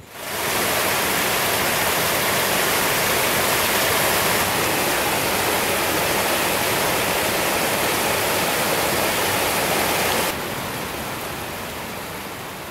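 A river flows as a steady, loud, dense rush of water, unbroken for the whole stretch with no voices, easing slightly toward the end.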